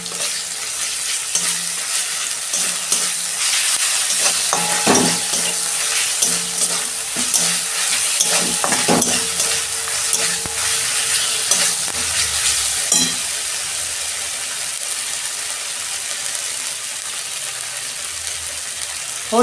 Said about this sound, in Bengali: এই যে আদা রসুনের পেস্ট দিচ্ছি।